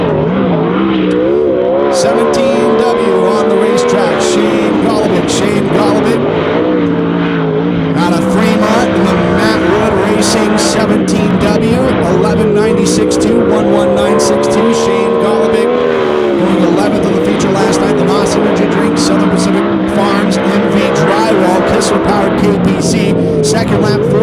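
410 sprint cars racing at Silver Dollar Speedway during qualifying, loud continuous engine howl rising and falling as cars lap, with an announcer talking over it throughout.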